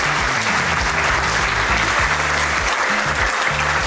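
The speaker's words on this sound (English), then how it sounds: "Loudest clap for yourself." An audience at a company founder's address bursts into loud, steady clapping that fills the room from start to finish, with no voice over it.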